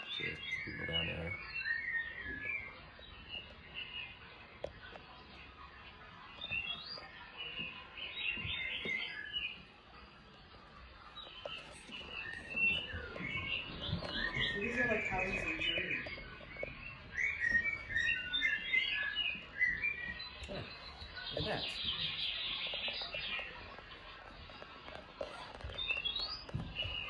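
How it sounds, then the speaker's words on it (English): Loud, distorted recording of birdsong and wildlife chirps playing continuously on an HO-scale model railway display layout, with dense tweeting calls filling the scene and a faint voice underneath. "that recording of birds and wildlife is freaking loud and distorted"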